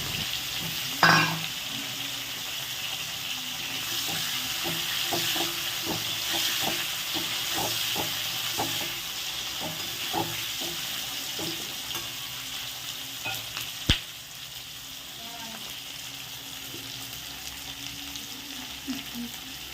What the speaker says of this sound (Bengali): কালো জিরে দেওয়া হয়ে গেলে এর মধ্যে দিয়ে দেবো কাঁচা লঙ্কা আর কেটে রাখা বেগুন দিয়ে এটা ভালো করে ভেজে নেবো